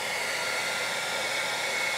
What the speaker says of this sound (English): I'm going to be using the diffuser end of my blow dryer on the lowest heat setting.